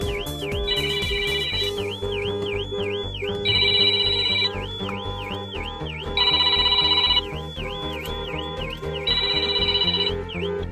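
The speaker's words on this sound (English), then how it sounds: "The alarm triggers and calls your phone" A phone rings with an incoming call placed by a StarLine Eclipse Pro car alarm, a steady electronic ringtone looping its melody with louder repeating phrases, clear and close with no talk.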